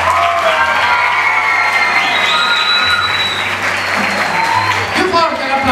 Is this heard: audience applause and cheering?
yes